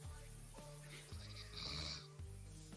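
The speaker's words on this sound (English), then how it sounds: "there's somebody snoring" A person snores in repeated, rough breaths at roughly half-second intervals, a low rasping sound close by against a steady background.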